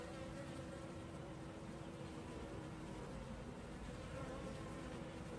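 Honey bees buzzing at a hive with a solid patch of brood, a steady, dense drone that holds evenly throughout with no voices.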